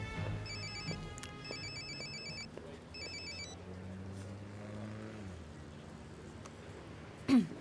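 A telephone rings in an indoor scene from a French soap opera, giving three short electronic ringing bursts at moderate volume over faint room noise and a low hum.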